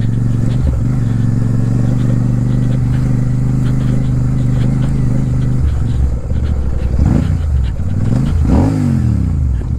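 A motorcycle engine runs continuously during a ride toward Pawna Dam, a loud, close, steady drone that shifts pitch as the rider changes speed, with rising and falling revs near the end.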